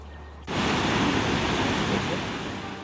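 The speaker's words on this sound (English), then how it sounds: "a stunning waterfall with raging river rapids" Loud, steady roar of rushing water from Huka Falls and its raging river rapids in New Zealand, starting abruptly after a quieter moment and continuing without pause.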